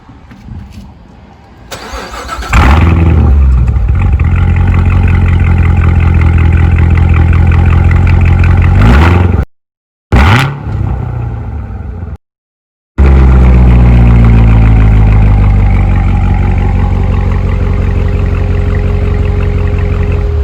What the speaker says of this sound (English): go to the back of the car so you guys can hear the exhaust